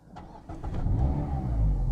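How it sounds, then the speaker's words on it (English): Mazda MX-5 Mk4 1.5 litre petrol engine starting: a few quick cranking pulses, then it catches and settles into a loud, rising idle. "So let's start the engine up"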